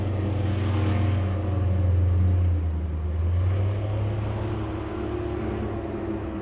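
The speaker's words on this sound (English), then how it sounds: "That must be an airboat." A distant airboat engine roars steadily, a deep droning rumble that swells and fades slightly, running somewhere off across open ground.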